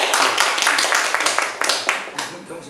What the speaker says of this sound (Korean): 오늘 참 수고하시는 선생님들 박수 한번